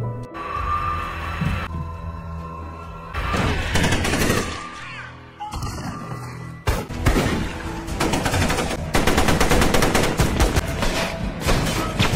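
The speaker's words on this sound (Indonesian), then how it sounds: "Marek yang mendengar suara tembakan bergegas mencari sumber suara" Loud bursts of film gunfire with dense crackling volleys over a booming, tense score, the shots growing heavier and more continuous toward the end.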